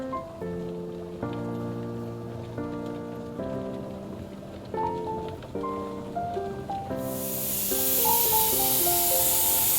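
Steam hisses from a pressure canner as the steady jet swells into a loud broad rush over background music.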